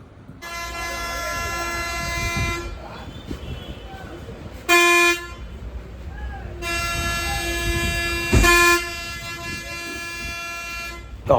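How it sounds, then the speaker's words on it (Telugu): Buses near a shopping complex blast long, loud horns again and again, with several shorter sharp toots between them, over a background of traffic rumble. A person talks during the honking. "ఎందుకు ఆ బస్సు సౌండ్ వినిపించమంటే రోజు మా చెవులు పగిలిపోతున్నాయి"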